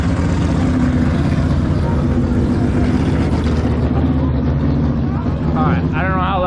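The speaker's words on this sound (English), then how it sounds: "I was just waiting for that car to pass" A car drives past close by with a loud, steady engine roar and tire noise filling the whole stretch, while someone talks over it.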